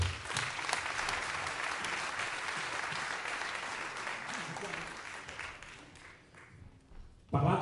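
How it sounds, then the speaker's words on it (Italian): Warm applause from a live concert audience at an acoustic guitar festival, strong at first and gradually thinning out over several seconds before a sudden loud thump at the very end, with a voice briefly audible. "quindi un applauso ancora."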